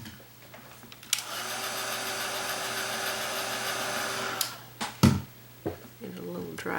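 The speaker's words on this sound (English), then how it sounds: "You don't want to use your heat tool too long on your stencil" A heat tool blows steadily over acrylic paint on a stencil, a loud continuous whirring hum that runs for about three seconds and then cuts off, followed by a few soft knocks and handling sounds.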